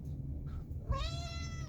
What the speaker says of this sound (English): Oh, that sounds more like a meow.